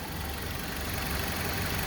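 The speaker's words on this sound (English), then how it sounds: "Engine's purring like a kitten right now." A 2013 Dodge Avenger engine idles smoothly after a thermostat housing replacement, a steady low hum with airy hiss on top and no change in level.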